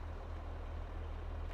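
A truck engine in Farming Simulator 22 idles as a steady low rumble, continuous and fairly quiet throughout with a slight swell at the end, no distinct starter crank standing out.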